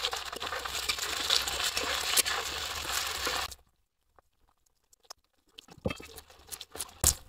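Chopped tomato hits fried potatoes in a hot pan, giving a dense crackling sizzle that stops abruptly partway, followed by near quiet broken by scattered sharp clicks and pops.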